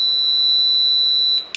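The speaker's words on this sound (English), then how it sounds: "And so any small shock, can even little shock. Yes, the alarm goes on." An earthquake alarm detector, set off by a small shock, emits a loud, steady, piercing electronic tone that holds continuously before cutting off with a click near the end, with no voices.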